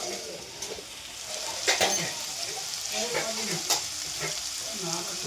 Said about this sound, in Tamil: வந்து இங்கே பொரியல் பண்ணிகிட்டு இருக்கேன் பாருங்கள். கோவக்காய் உருளைக்கிழங்கு பொரியல்.